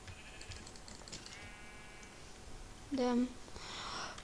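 Sheep bleating in the Minecraft video game, a single short bleat standing out briefly amid typing-like clicks and game sounds, with a voice speaking around it.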